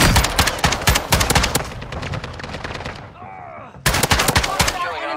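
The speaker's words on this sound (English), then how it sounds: "You are taking effective fire." Rapid automatic gunfire in a video game, loud and close, dense bursts of shots that pause briefly before resuming, with a game voice line speaking through the firing.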